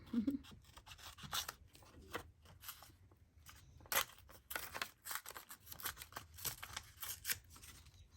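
Repeated crisp snipping and rasping of scissors through stiff cardboard packaging, irregular cuts close to the microphone with light rustling between them.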